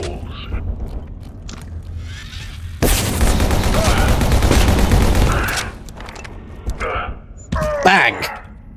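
Sniper rifle fire from the Wessex rifle in the video game Abiotic Factor, a sharp loud shot followed by a sustained burst of heavy gunfire and trailing echoes, with a voice speaking around it.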